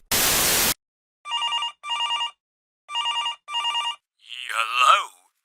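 A telephone rings with two short double-burst rings, a pause, then two more, preceded by a burst of static noise and followed by a voice answering.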